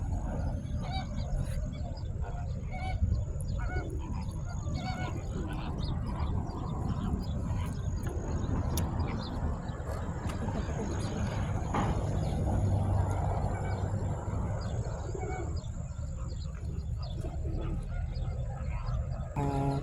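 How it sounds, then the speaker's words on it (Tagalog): Birds call outdoors over a noisy background, with scattered chirps and cries repeating throughout, fairly distant and mixed with ambient rumble. "Ay mga ibon, no?"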